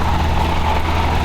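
A Toyota 4Runner engine holds a high idle with a vacuum leak, a steady, dense, close-up drone that stays even and unbroken with no voices.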